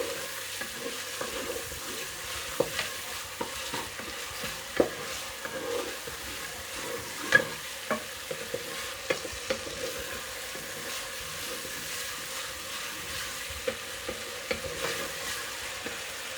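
Onions fry and brown in a pan for a turnip bharta, a soft, continuous sizzle punctuated by sharp taps and scrapes of a spoon stirring against the pan, fairly quiet and close, with no speech.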